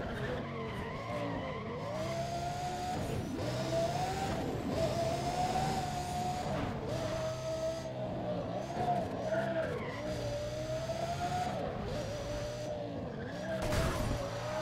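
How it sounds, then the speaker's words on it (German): A Pagani Zonda in Need for Speed: ProStreet skids and squeals its tires loudly and continuously under a roaring engine, the long screech wavering for the whole stretch as the car slides toward a wall. "da sind wir nämlich genau schön direkt in die Wand gefahren"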